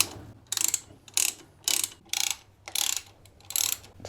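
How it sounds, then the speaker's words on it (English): Torque wrench clicking as the bolts on aftermarket motorcycle foot pegs for a Tenere 700 are tightened to spec, six short bursts of ratcheting at a steady rhythm, close and fairly loud with brief gaps between. "Torque these up to spec."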